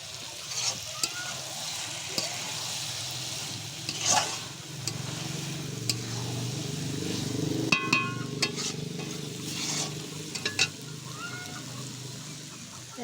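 Rice and a vegetable dish cooking over a wood fire, a steady low crackle and sizzle close by with occasional stirring clinks and scrapes.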